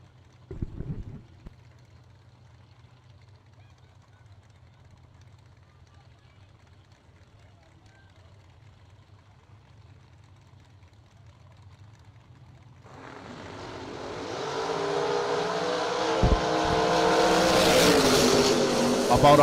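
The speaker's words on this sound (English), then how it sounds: "About 100 foot worth of wheelie for Gary Williams" Drag race cars launching off the line in a wheelstanding heads-up pass, with a loud, broadband engine roar that rises abruptly late in the clip after a long stretch of low idle hum and announcer-style talk.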